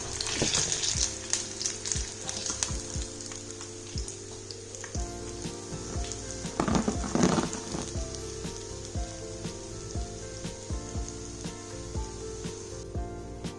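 Spiced Lahori-style fish pieces deep frying in oil, a dense, crackling sizzle with scattered pops that continues steadily for over ten seconds, close and without voices.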